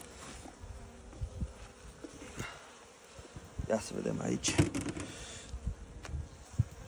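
Honey bees hum and buzz around a full honey frame lifted from a hive, a low fluctuating drone close by that swells midway, while someone speaks briefly over it.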